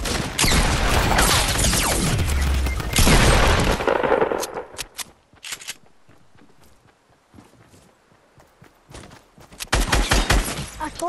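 Gunfire in the Fortnite video game: a dense, loud rapid barrage for several seconds, then scattered single shots and clatter, with a renewed burst of firing near the end.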